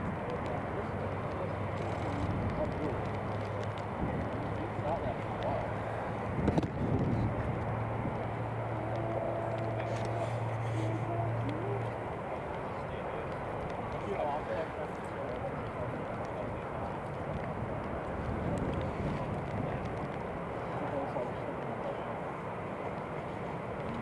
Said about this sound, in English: TUI is just rolling now down the runway.